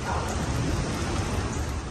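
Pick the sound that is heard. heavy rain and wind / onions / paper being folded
heavy rain and wind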